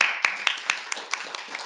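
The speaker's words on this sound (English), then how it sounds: "I would just like to welcome her with a lovely round of applause" A small audience at a history of medicine talk on malaria gives a brief welcoming round of applause, a short burst of evenly spaced claps that sound sparse and close.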